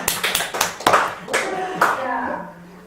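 At a Sunday dharma service in a Korean Buddhist hall, a few sharp hand claps ring out in quick succession, then give way to a voice talking with lingering room echo.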